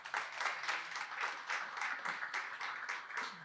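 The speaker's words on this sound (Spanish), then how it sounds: "Un fuerte aplauso para Moisés Morán Vega." A studio audience on a Spanish talk show claps in a brief, even round of applause that stays fairly quiet and moderately dense from start to finish.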